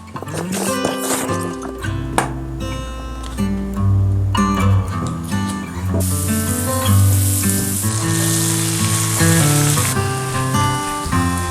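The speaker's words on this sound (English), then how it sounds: "Got some onions here caramelizing" Onions caramelize in a pan with a steady sizzle, broken by clattering knocks and utensil scrapes, and the hiss grows louder and denser in the second half.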